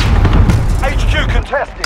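A rocket launcher fires in a Call of Duty Modern Warfare match, a loud booming blast with a rushing tail lasting under two seconds.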